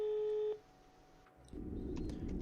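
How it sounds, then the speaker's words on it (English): A phone-call tone in the Oxygen visual novel game sounds as a steady electronic beep that stops after half a second, followed by quiet and then a low rumbling hum, with no talking. "And the phone call again."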